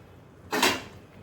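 A lid set onto a cooking pot of green bananas in a home kitchen, one short close clank alone in a quiet room.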